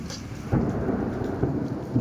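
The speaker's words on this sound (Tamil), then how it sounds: "இங்க பாருங்க இடி மின்னல்." Thunder rumbles low and heavy through a steady hiss of heavy summer rain, the storm sound continuous and fairly loud with a deeper swell partway through.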